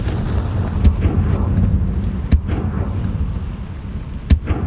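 Confringo fire spell blasts in Hogwarts Legacy, a steady roaring rumble broken by three sharp, loud cracks spaced a second or two apart, with no talk.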